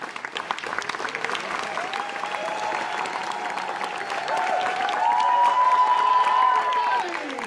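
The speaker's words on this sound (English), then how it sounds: "nice round of applause for the host of today's show, Alex Ross" An audience at a horror makeup show at Universal Studios Orlando applauds and cheers for the host, steady clapping with scattered whoops swelling toward the end, a voice calling out over it.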